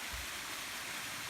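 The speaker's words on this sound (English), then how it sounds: "The waterfall we all waited for." High, slick waterfall on a South Carolina hiking trail, a constant dense rush of falling water that fills the whole brief moment, steady and close with no voices.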